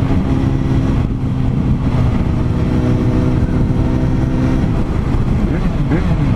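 A Suzuki Bandit 650 motorcycle with an aftermarket exhaust roars steadily on a highway under repair, its deep engine note loud and continuous, with a short dip and a rev change near the end and a voice talking over it.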